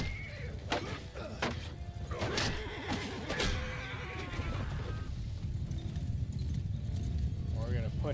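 Horses of mounted horse archers neigh and whinny in a real-time battle video game amid a busy clash of hooves and combat noise. Several short whinnies stand out early, then the mix settles into a dense, continuous rumble.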